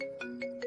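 A mobile phone ringtone plays in a short melodic pattern of three clear repeated tones, close and alone.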